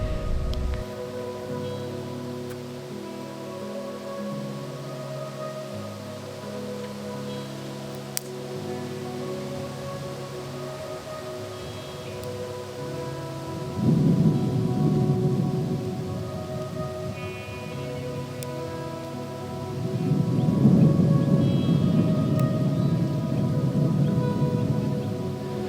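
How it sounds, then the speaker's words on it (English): Rain in the Australian outback at evening during a stormy spell, early drops pattering softly, with low rumbling swells of distant thunder rolling in twice over a steady background hum. "First drops of rain. It's been stormy."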